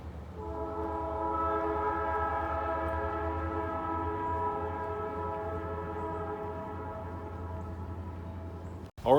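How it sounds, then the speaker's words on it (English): A freight train sounds its horn in downtown Mount Orab, a loud sustained multi-tone blast holding steady for about nine seconds with rumbling wheels beneath, before a sharp clunk at the end. "here comes the train"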